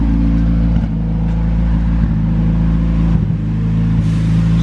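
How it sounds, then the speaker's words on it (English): Turbocharged car with a full exhaust and a GT35 82 turbo, strapped down on a dyno, holds a loud, steady engine drone close by, with small surges in revs and no talk. "So the car has a full exhaust system and a GT35 82 turbo."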